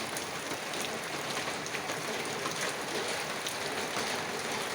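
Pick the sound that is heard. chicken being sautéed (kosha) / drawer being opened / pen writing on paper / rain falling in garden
rain falling in garden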